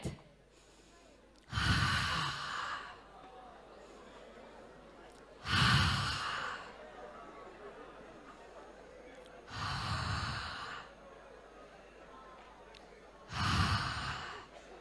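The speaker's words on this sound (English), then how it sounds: "Release all your fear, all your stress, all your worries through your breath." A group forcefully exhales through open mouths in a breathing exercise at a motivational talk: four loud, breathy rushes spaced about four seconds apart, each fading into quiet room tone.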